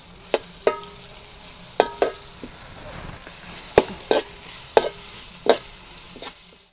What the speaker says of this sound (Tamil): இப்போ இஞ்சி பூண்டு போட்டு வதக்கிடுவோம்.